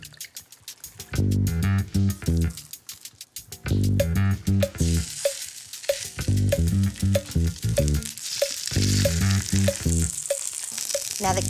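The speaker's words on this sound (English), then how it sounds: "Now the key to getting a nice crispy skin on this fillet of trout is to throw it in the pan. You want to hear that sizzle" A trout fillet sears in a hot pan for crispy skin, with loud crackling, popping sizzle in bursts and sharp clicks of a utensil, continuing steadily.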